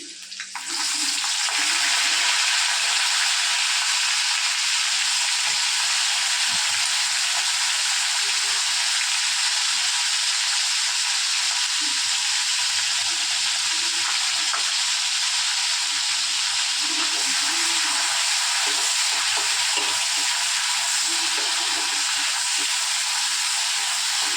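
Prawns frying lightly in a pan with two dried red chillies give a steady, loud, close sizzle and hiss that runs unbroken through the whole stretch, with faint bubbling and crackle underneath.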